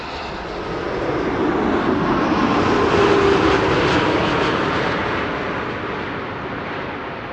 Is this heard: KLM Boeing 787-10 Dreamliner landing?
yes